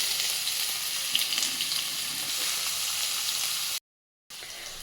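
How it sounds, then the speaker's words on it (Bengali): Cumin seeds sizzling in hot oil in a karai: a steady, close frying hiss that runs evenly, breaks off into a brief silence near the end, then resumes. "অল্প একটু জিরা দিয়ে দেবো তেলে।"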